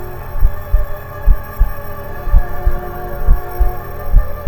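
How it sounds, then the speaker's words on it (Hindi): A loud, low heartbeat pounds in a steady, rapid rhythm over a dark droning hum, used as a tense horror effect with no voices. "अमित का दिल जोर से धड़कने लगा।"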